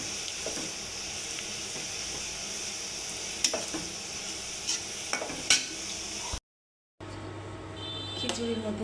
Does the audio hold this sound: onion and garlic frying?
yes